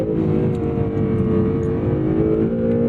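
A 2017 Acura NSX (NC1) hybrid sports car accelerating hard, its engine note steady and loud with a dense, rising drone held through the gear, close and continuous with no talk.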